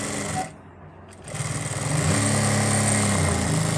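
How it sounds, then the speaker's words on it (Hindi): A sewing machine runs while stitching a ladies' pant, starting after a short pause and settling into a steady, fast mechanical whir and rattle that holds at an even, close level. "अब दोस्तों यहाँ से लेकर यहाँ तक हम सिलाई लगाएंगे करीब 1 इंच की"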